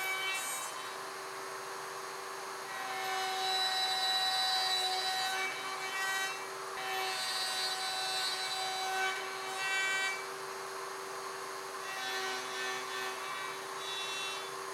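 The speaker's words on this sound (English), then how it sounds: "As you did before, route into every odd numbered opening." Router cutting through dovetails in a wooden tailboard on a Leigh RTJ400 jig, a steady high-pitched whine with shifting grinding tones as the bit moves through successive openings, continuous and close with no talk.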